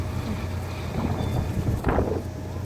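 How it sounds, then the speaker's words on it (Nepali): Strong wind blows across an outdoor construction site where steel fitters are working, a loud, steady roar and buffeting against the microphone that swells briefly in a gust. "हेर्नुहोस् कस्तो हावा चलिरहेको छ"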